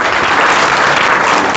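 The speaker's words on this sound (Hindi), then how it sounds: "एक बार जोरदार ताली बच्ची के लिए।" Loud, dense applause from a classroom of students clapping for a girl who answered a question, a steady burst of hand claps filling the whole short moment with no talk.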